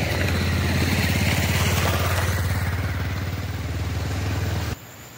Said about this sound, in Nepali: अहिले चाहिँ गाडीहरू बाइकहरू कुदिरहेका छन्